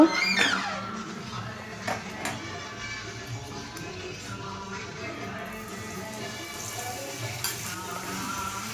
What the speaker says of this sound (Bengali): রিফাইন তেল দিয়ে খানিকক্ষণ ভেজে নেব।